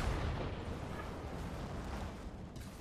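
Gunfire from a shooting video game plays as a dense, sustained barrage of booms and bursts at a steady level, with no clearly separate single shots.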